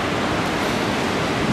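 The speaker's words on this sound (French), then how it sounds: "Bon, il y a quelques vagues qui passent et qui sont pas mal outside." Ocean surf at low tide on the beach at Anglet, a steady, dense roar of breaking waves filling the whole clip, loud and continuous, with no voices.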